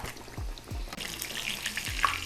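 Breaded pork chop for tonkatsu deep frying in 350°F oil, a steady bubbling hiss with a few low clunks and bumps along the way, close and fairly loud, with no talking.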